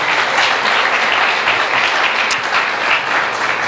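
A church congregation at a Spanish-language sermon breaks into loud, dense applause, a thick continuous wash of clapping from many hands close by with no voices over it.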